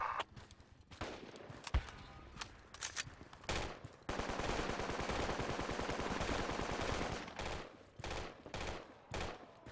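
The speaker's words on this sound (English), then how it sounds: "I am shooting these motherfuckers." Automatic rifle fire in the military shooter Project Reality on the Karbala insurgency map, scattered bursts and single cracks, then a long sustained burst of rapid, evenly spaced shots up close, followed by a few more sharp reports.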